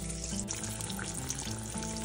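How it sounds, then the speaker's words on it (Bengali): Chhana kofta balls frying in hot oil, a steady soft sizzle and bubbling heard close up but quietly, with no voices. "এবারে তাড়াহুড়ো করে এগুলোকে ভেজে নেব"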